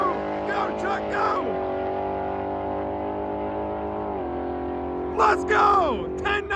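A drag racing truck accelerates down the track, its engine a sustained steady drone through the clip, with people shouting and cheering over it.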